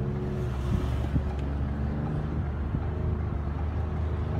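A 2013 Ford Explorer with a 3.5-liter V6 and its mufflers deleted, the straight exhaust giving a steady, loud, low droning rumble throughout with a few small throttle blips and no talking.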